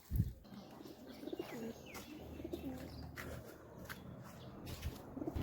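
Pigeons in a coop with nesting pairs on eggs coo softly and faintly from nearby, with occasional chirps and light shuffling or footstep-like knocks in an otherwise quiet space.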